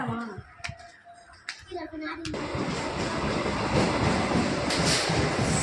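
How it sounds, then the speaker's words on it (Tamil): A local passenger train on the Pondy-Tirupati line passes close by, building into a loud continuous rolling rumble after a few sharp clicks and brief talking at the start. "இது வந்து பார்த்திங்கன்னா லோக்கல் ட்ரெயின் வந்து போகுது"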